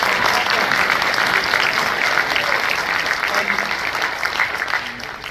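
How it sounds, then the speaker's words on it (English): Audience applause at a Miami arts studio event, steady dense clapping from a crowd that holds for about five seconds and tapers slightly at the end, with no voices over it. "you're going to give yourselves a round of applause"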